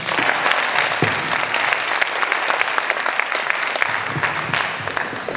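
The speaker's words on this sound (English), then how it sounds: "Please give these brilliant and highly educated members of the Health Task Force a huge applause" An audience at a healthcare town hall meeting gives a health task force sustained, dense applause that stays steady and fairly loud throughout.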